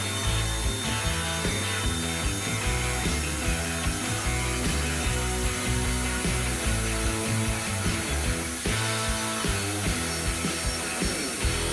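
A Kova 20V cordless impact drill runs steadily and loudly throughout, a continuous buzzing motor whine with rapid rhythmic hammering pulses, close up and without voices.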